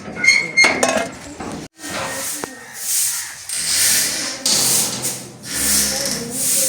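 Pots and dishes clattering in a home kitchen while cooked rice is checked, with loud clanks and scrapes of metal cookware, up close and in uneven bursts.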